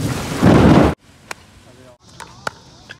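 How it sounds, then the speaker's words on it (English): Rain pours in a loud burst of dense hiss for about a second, then drops to a quiet background broken by a few sharp knocks. "It's raining!"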